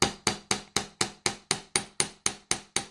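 Twelve crisp, ringing metal hammer strikes on the end of a wire-wrapped pendant land at a steady, even rhythm, close and distinct, with no talking.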